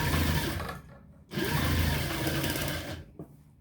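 A sewing machine stitches a neck design into a garment, a fast, loud mechanical whir in two bursts with a short pause between, heard close by.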